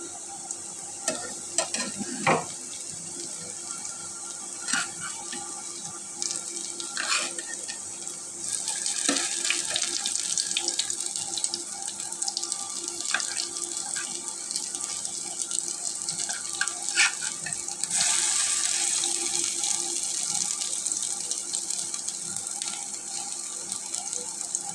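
Lentil fritters frying in a pan fill the clip with a continuous sizzle of hot oil, broken by scattered clicks and scrapes of a utensil, and the sizzle grows louder partway through. No talking is heard.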